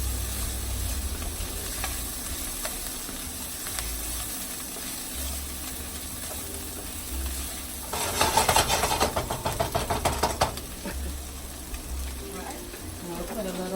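Butter sizzles in a pan with Hatch chilies, a steady frying hiss that swells into a louder crackling burst midway, then settles back to a low sizzle.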